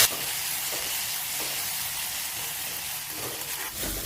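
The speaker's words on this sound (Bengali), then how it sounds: "আমি সবগুলো মশলা 3 মিনিটের মতো কষিয়ে নিয়েছি।" Chili paste and spices fry in hot oil for gondhoraj chicken, a steady soft sizzle and hiss with faint scraping, alone without talk.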